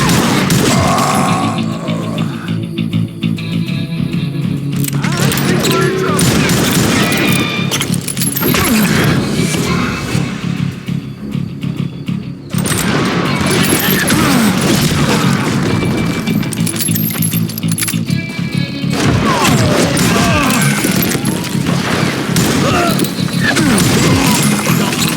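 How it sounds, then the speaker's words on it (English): Chaotic gunfire rattles through a street battle in the Call of Juarez: Gunslinger video game, with sharp cracks and booms scattered across a dense, loud, continuous mix of noise. "They're shooting in the street!"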